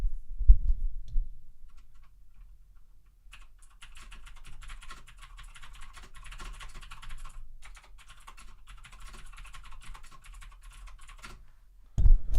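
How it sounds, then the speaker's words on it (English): Typewriter keys clacking in a steady, fast run of sharp strikes, close to the microphone, with a few short pauses and a heavier thud at the start and end. "Let me go type some."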